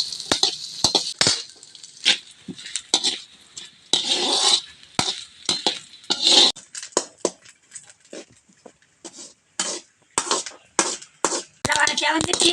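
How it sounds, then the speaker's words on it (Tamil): Shredded coconut dry-roasting in a pan for a thuthuvalai thuvaiyal, with repeated crackles and scraping stirs of a spoon against the metal in irregular bursts, fairly close and moderately loud. "தேங்காய் நல்லா வறுத்துக்கலாம்."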